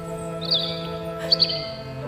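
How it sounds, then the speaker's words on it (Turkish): Two short high chirps from a white swallow sound over a steady background tone, the second call coming about a second after the first. "Ak kırlangıç geldi anne."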